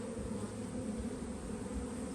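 Honey bees swarm over a hive frame in a dense, steady buzz that holds close and even throughout, with no talking.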